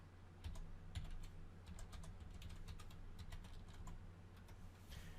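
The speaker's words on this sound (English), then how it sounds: "on the top of the search bar, I'm going to go ahead and type in" Quiet computer keyboard typing as a web address is entered, a quick irregular run of soft key clicks close by with no talking.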